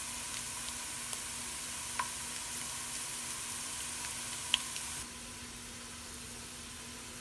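Ginger frying in oil, a soft continuous sizzle with a few faint pops and clicks, dropping slightly quieter toward the end; no one speaks.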